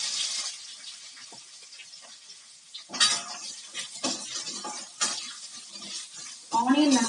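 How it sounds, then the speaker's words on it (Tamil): Onions sautéing in a pan for aloe vera chutney, with soft sizzling and intermittent scraping and stirring clatter of a utensil against the pan, while a person talks over it. "ஆனியன் நல்லா கோல்டன் ப்ரௌன் ஆகட்டும், அது வரைக்கும் நம்ம நல்லா வதக்கிக்கலாம்."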